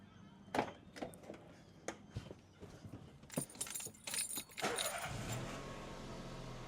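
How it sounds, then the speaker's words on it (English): Keys jangle and click in several brief bursts, then a car engine cranks and catches, settling into a steady idle. "We'll go and start the car."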